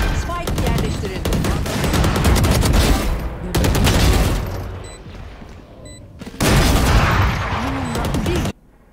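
Rapid bursts of automatic gunfire in a tactical shooter game with a bomb-planting round, loud dense volleys in several clusters separated by short pauses, ending abruptly.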